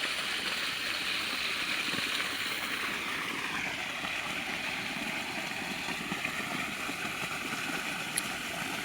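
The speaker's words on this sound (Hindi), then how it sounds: "आ जो पानी जाए छे।" Irrigation water flows steadily through a farm channel in an orchard field, a continuous close rushing wash that stays even throughout with no talk.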